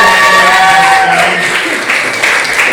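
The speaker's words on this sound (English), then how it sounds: "Give Natasha a big round of applause." Loud applause and clapping from a live audience greeting a performer at an event, a short burst of steady clapping with voices mixed in.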